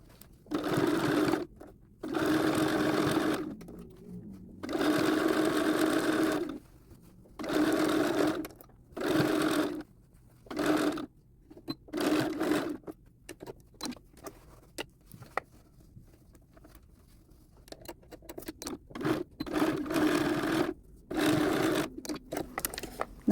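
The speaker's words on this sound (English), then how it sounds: "start sewing around here again, backstitch and finish" A sewing machine stitches the lining of a doll coat in a series of short bursts separated by pauses, including backstitching, with fabric shuffling and handling noises between runs.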